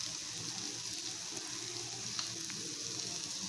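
Fish roe kebabs frying on a low flame in a pan, a steady soft sizzle with faint bubbling and occasional light pops, quiet and continuous throughout.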